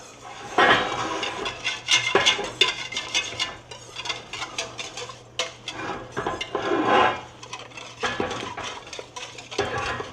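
A metal utensil scrapes browned bits off the sides of a pot into sauerbraten gravy, loud close scrapes and clanks in irregular bursts over a low steady hum.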